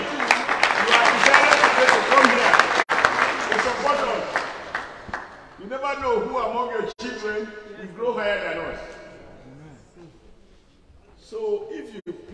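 An outdoor crowd at a political meeting with voters breaks into loud clapping for the first few seconds, then the applause fades and someone speaks through the rest, with a short burst of claps returning near the end.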